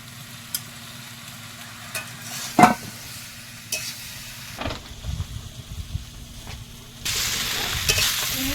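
Ginger fried with tomato and pumpkin in a Bengali curry pan, giving a low steady sizzle with scattered stirring scrapes and clatters, growing brighter and hissier toward the end.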